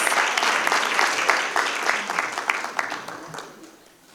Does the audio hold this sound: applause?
yes